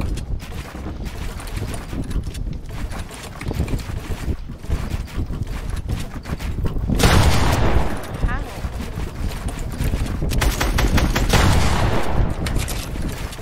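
A drum gun fires in a Fortnite match, sending dense, rapid bursts through loud, rushing game noise that swells near the end.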